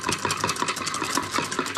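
Chocolate-flavoured double cream whisked steadily toward a lightly whipped thickness, a fast regular scraping rhythm close and continuous throughout.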